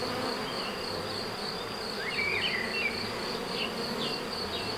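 Honeybees from a first-year beekeeper's hives buzz in a dense, constant drone close by, with individual bees whirring past over the steady swarm hum.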